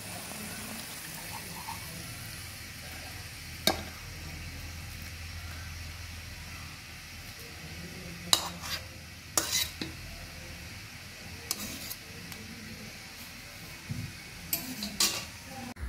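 Cooked cashew pomfret lifted from a pan: a faint sizzle runs underneath while a spatula scrapes and clinks against the pan in several sharp, scattered knocks, close by, with no talking.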